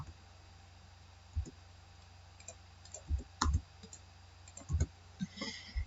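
Computer mouse clicks while drafting in AutoCAD, sparse short taps spaced a second or so apart and then clustered, quiet and close over a faint background hum, with no speech.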